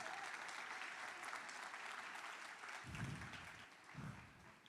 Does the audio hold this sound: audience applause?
yes